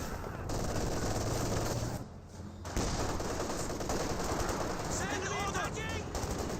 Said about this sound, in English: MG34 engaging.